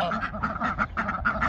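A duck quacks in a barn, making rapid, repeated nasal calls close by with no pause.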